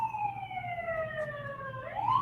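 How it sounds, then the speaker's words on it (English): Fire truck siren wailing in the distance, a single long tone gliding downward and then sweeping back up, faint over a low background rumble. "We have a big siren coming in right here."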